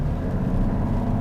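A 2023 Mazda CX-60 with the 3.3-litre inline-six diesel drones steadily from inside the cabin while driving, a low continuous engine rumble at an even level with no talk.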